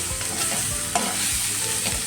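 Gram flour and soaked chana dal sautéing in a little oil, with a steady sizzle and rhythmic scraping strokes of a spoon stirring the pan, close and continuous without talk.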